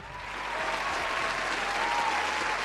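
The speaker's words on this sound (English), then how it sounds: "Is that cheering? Was that cheering?" A studio audience breaks into steady applause and cheering for a podcast guest's introduction, a dense clapping wash that swells in the first half-second and then holds level and fairly loud throughout.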